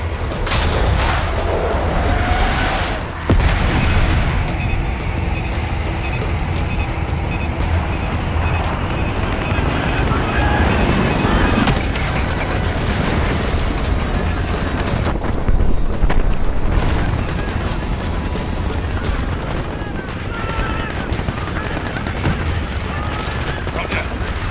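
Heavy bombing explosions and dense gunfire fill a battle in Black Ops 6 after a call for air support, with sustained booming blasts and rattling shots, loud and continuous, and brief shouted voices mixed in.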